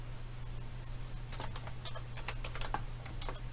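Keys clatter on a computer keyboard as someone types in a quiet room, with a quick irregular run of soft close taps over a low steady hum.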